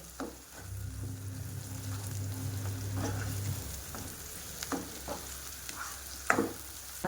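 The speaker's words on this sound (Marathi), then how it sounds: "हा असा मसाला तेलामध्ये परतून घ्यायचा आहे" Wet masala for lasuni methi, a garlic and fenugreek dish, sizzles steadily in oil under a low hum, with occasional sharp scrapes and clicks of stirring close by.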